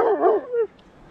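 A dog whines and whimpers in a short rising-and-falling cry, eager for a freshly caught yellow fish on a riverbank, close and loud, then stops into quiet outdoor background.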